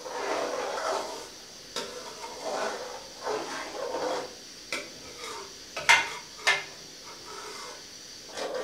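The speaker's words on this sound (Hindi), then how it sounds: "अब हम इसमें बादाम जो ग्राइंड किए थे वो डालेंगे और इसको अच्छी तरह भूनेंगे तकरीबन 5 से 6 मिनट" Ground almonds are stirred and roasted in a pan for almond halwa, with a spoon scraping in repeated strokes and brief clinks against the metal, quiet and close.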